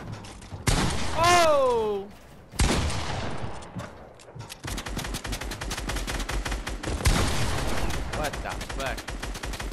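Fortnite gunfire crackles in dense rapid bursts, loud and close, with a rising whistle-like tone early on and a player shouting an exclamation over the shooting.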